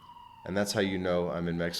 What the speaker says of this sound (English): You can probably hear that police siren in the background